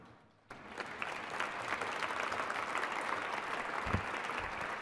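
Applause from an awards ceremony audience starts abruptly and swells into a steady, dense wash of clapping that continues for several seconds, moderately distant and fairly soft.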